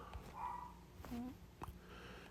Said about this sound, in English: excuse me, dogs, please be quiet